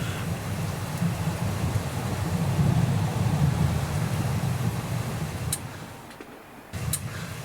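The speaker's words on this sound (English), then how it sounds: "As you can hear, we have a thunderstorm." A thunderstorm in a home workshop where a pin punch is being made: steady broadband rain with low rumbling thunder that swells and fades, broken near the end by a couple of sharp clicks, no talking.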